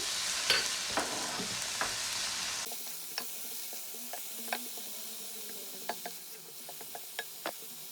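Courgette cooking in a pan with red peppers and carrots gives a soft continuous sizzle, broken by scattered sharp pops and stirring clicks. The sizzle drops quieter partway through.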